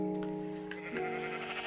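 Sheep in Minecraft bleating in a steady, wavering tone that shifts pitch midway, close and clear, with no talking over it.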